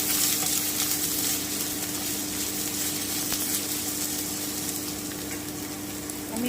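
Peas and green chillies fry in a pan while being stirred, a steady close sizzle with light scraping movement throughout, no one talking.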